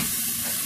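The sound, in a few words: stirring flour into a sizzling pan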